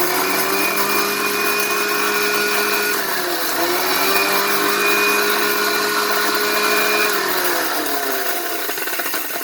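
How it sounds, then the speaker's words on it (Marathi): A mixer grinder whirs loudly and steadily for several seconds grinding fennel seeds, its motor pitch dipping briefly midway before running on, with no voices. "तर आपण मिक्सर लावून घेऊया"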